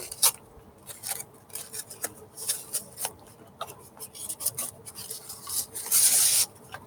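Someone opens a sealed, taped package found at a garage sale, with scratchy rasping and tearing of tape and cardboard in short repeated bursts, close and fairly loud, and a longer hissing rip near the end.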